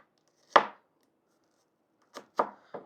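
A sharp kitchen knife chopping onion for a bachelor-style biryani strikes a board in four crisp, close cuts: a single chop, a pause, then three quick chops in a row.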